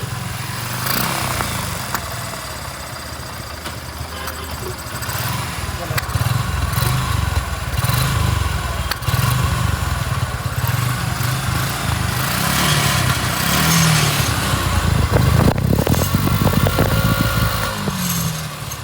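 A Suzuki Gixxer SF motorcycle engine fitted with a carburetor runs steadily close by, idling with occasional throttle blips, and a voice speaks over it.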